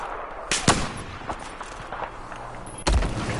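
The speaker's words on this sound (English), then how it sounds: "Asshole using a fucking marksman rifle." Marksman rifle gunfire in Battlefield 4 gameplay, a few sharp cracking shots and booms spread irregularly over the stretch, one heavy blast near the end, with no talking.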